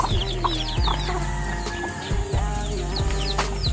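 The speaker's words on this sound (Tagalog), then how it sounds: "Ang dami mo ng manok dito ah." Chickens cluck and squawk close by in a busy yard, with rapid overlapping calls over a steady low hum and occasional thumps.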